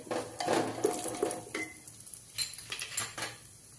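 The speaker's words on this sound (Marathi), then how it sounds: "कापलेला बदाम, तर हे छान सगळं परतून घेणार आहे गुलाबी रंग येईपर्यंत।" Cashews and chopped almonds are stirred in a pan, with scraping and clinking of a spoon against metal and a soft frying hiss, close and fairly quiet.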